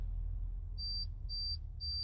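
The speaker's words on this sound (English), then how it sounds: "And when I turn it off, it shuts off. 3 beeps." A truck's electronics give three short, high-pitched beeps at shutoff in an even rhythm over a low engine-like rumble, each lasting about a quarter second.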